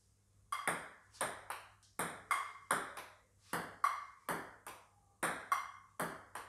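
A ping pong ball knocks back and forth between small saucepans used as paddles in an even rally, each hit a sharp metallic ping with a short ringing tail, about two per second.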